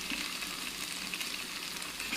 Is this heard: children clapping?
no